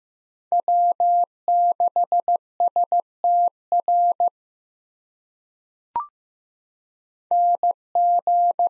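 Morse code CW amateur radio call signs sent at 15 words per minute: clean, steady single-pitch beeps in quick dot-dash groups, a pause with one sharp click, then the keying resumes.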